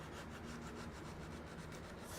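Sanding off support marks on a 3D-printed cosplay helmet gives a close, steady rasping scrape in quick repeated strokes, with no talking.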